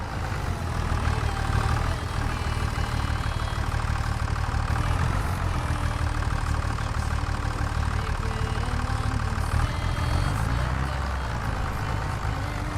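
A giant tractor idles steadily in Farming Simulator 25, a continuous low engine rumble with a faint knock running underneath throughout.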